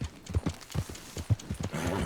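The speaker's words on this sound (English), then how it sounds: "I can run this horse pretty much as hard as I want." A saddled horse gallops hard in Red Dead Redemption, its hoofbeats landing in quick, regular clusters of thuds at close range with no voices over them.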